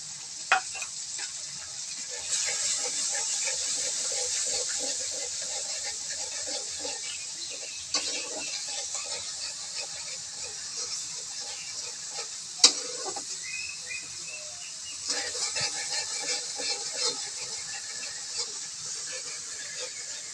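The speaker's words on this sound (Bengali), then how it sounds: "অল্প হলুদের গুঁড়া দিয়ে দিচ্ছি সামান্য নারিকেলের দুধ দিয়ে দিয়েছি" Vegetable curry with turmeric powder and coconut milk sizzles steadily in a pan, with intermittent scraping and tapping of a stirring spoon and a sharp clink partway through.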